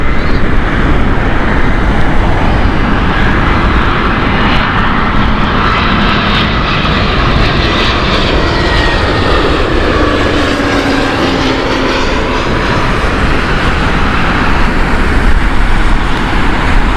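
A Brussels Airlines airliner's jet engines at Heathrow Airport give a loud, steady, broadband roar that holds for the whole stretch, close and continuous with no talking.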